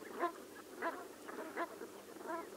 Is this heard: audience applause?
no